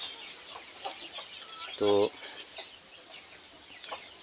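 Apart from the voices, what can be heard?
free-range chickens clucking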